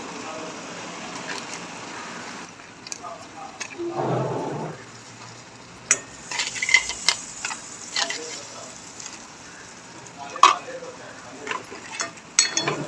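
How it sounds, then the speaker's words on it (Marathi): Crab pieces added to a masala in a pan for crab curry and stirred, with soft sizzling under scattered scraping and clattering stirring strokes, close and intermittent. "आता खेकडे टाकून घेऊ"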